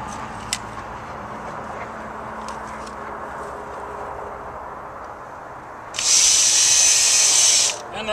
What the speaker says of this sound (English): Drill the holes, put the screws in place, and we'll have it anchored down.